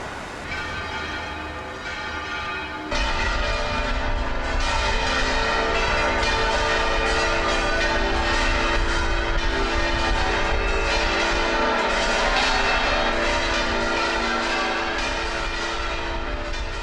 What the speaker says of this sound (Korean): 세비야 대성당의 종소리가 9시를 가리킬 때